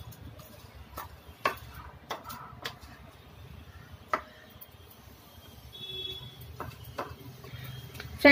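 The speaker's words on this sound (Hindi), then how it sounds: "इस तरह का एक स्पून ले और पूरे मैदे को अच्छे से इसमें मिक्स करना है।" A spoon scrapes and knocks against a bowl while flour is stirred into eggless tutti frutti cake batter, giving scattered soft clicks and taps over a low steady hum, with no talking.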